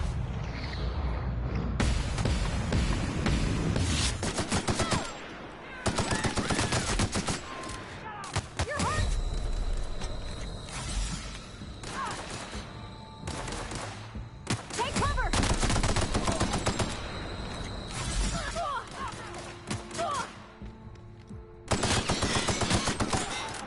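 Bursts of rapid automatic gunfire and single gunshots from The Outer Worlds video game, loud and repeated in dense volleys with short pauses between, with faint speech here and there.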